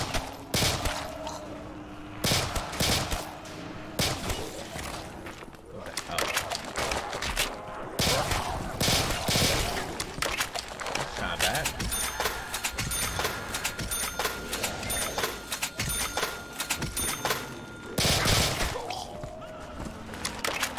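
G18 pistol fire in Black Ops 3 crackles in dense rapid bursts amid loud, busy game sound, with sharp transient cracks repeating throughout and a steady mix of effects behind.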